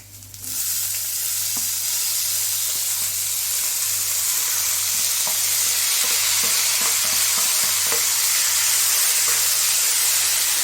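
Carrot, snake gourd and beans stir-frying in a pan for a thoran, a steady loud sizzle running throughout with scattered soft clicks of stirring, no voices.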